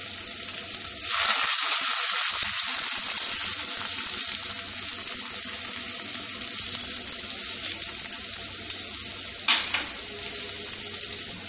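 Large poppy seed balls (posto bora) fry in hot oil with a steady, dense sizzle that runs the whole time, loud and close, with a short bubbling surge near the start and no talking.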